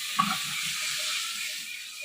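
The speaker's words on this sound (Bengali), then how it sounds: "আমার আম ভাজা হয়ে গেছে, জল দিয়ে দিলাম।" Water poured into a hot pan of fried raw mango for a chutney gives a steady, close hiss and sizzle that holds evenly throughout with no talking.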